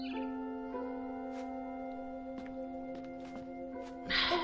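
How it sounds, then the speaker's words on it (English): A bird chirps outside a window in the video game What Remains of Edith Finch, giving a few short, scattered chirps over a sustained musical drone, followed by a brief rustling burst at the end. "Then I heard chirping outside my window."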